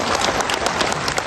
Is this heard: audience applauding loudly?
yes